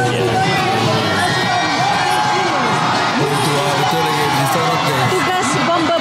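Large crowd roaring and cheering at a Malaysian independence parade in 2023, continuous and loud, with shouts and whoops throughout and a voice talking over the noise.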